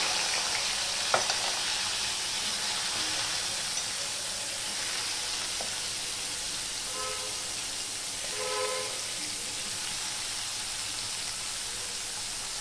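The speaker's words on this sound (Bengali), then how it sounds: "দ্বিতীয় ব্যাচটা আমি ভেজে নেব এইভাবে।" Sliced bitter gourd (karela) fries in a pan with a continuous, even sizzle, broken by a few faint clinks of a utensil, with no one talking.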